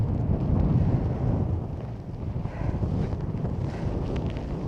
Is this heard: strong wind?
yes